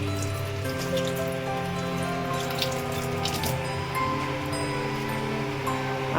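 Water runs steadily from a tap fed by a direct supply line while hands are washed under it, a close splashing stream with a faint tonal hum beneath it and no talk.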